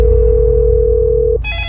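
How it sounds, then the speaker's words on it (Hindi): A telephone rings with a steady electronic tone that holds for over a second before switching to a brighter, higher ring pattern, loud and close over a low background hum. "अरे सलोनी का फोन"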